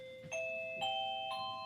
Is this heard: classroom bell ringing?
yes